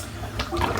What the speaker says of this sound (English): I'm just going to empty out this first set of water.